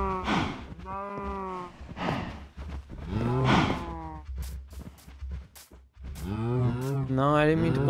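Cows in the Minecraft video game give several drawn-out, close moos one after another with short pauses between them, loud and clear over a low background.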